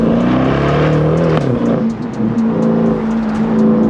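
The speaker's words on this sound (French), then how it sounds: "Oh, ce bruit avec le Catasport IPE là." Sports car with an IPE catalytic sport exhaust revving in RS2 mode, a loud, close engine note that climbs, dips briefly and swells again with sharp crackles over the exhaust drone.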